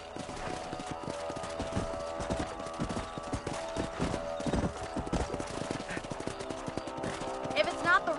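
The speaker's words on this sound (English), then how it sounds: "Let's get back on the horses and see what else is going on." Horses trot with a steady clip-clop of hooves through a Red Dead Redemption ride, a whinny rising near the end, while voices talk over the rhythmic hoofbeats.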